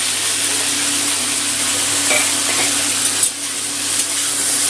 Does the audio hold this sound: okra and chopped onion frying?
yes